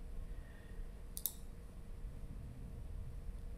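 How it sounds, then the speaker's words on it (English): A single crisp computer mouse click stands out briefly against a quiet, steady background hum, used while setting up a configuration in SSIS software. "and then I click on add."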